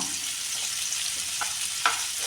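Hill gooseberries fry in hot oil with a steady, close hiss, and a couple of light stirring clicks near the end, with no voices.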